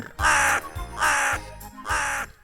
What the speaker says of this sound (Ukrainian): Ворона ходить поважно та голосно кричить.